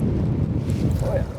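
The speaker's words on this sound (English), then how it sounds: "It's like a 30-mile-an-hour wind gust right now" Strong wind gusts buffet a fishing boat on Minnesota's Rainy River in spring, a dense, continuous low roar of wind rushing against the microphone.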